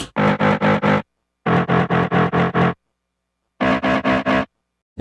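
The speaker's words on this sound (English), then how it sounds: "It's just this horn sample again, and we ran it through distortion and AutoPan." A heavily distorted BMW car horn sample used as bass, run through distortion and auto-pan, stutters in fast rhythmic bursts, grouped in clusters of four to five pulses with short silent gaps, loud and buzzy.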